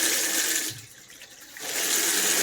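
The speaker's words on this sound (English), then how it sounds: "that initial burst is where the water starts flowing and then the pump kicks in" Cold water running from a farmhouse kitchen tap fed by an EsyBox Mini 3 pump, a loud steady rushing hiss that dips briefly in the middle and then surges back as the pump kicks in.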